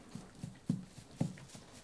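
A horse's hooves clop in a slow, regular rhythm of soft, low thuds, fairly faint and close, with no talking over them.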